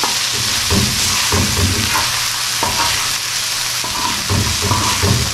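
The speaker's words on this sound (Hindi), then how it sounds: "अब इस टाइम पे मैं इससे हरी मिर्च डाल दूँगी" Green chillies go into cluster bean (gawar phali) sabzi frying on a tawa, giving a loud, close, constant sizzle broken by rhythmic scraping and stirring strokes.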